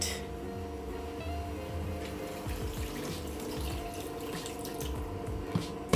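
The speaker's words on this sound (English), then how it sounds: "So I'm just catching enough water in this to add to the meat pot." Tap water runs steadily into a container, caught to add to a meat pot for a Jamaican Sunday fricassee chicken dinner, a continuous close splashing flow with faint kitchen clatter and no talk.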